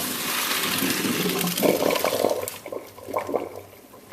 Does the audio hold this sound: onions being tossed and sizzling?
no